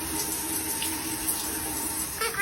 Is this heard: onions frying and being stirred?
no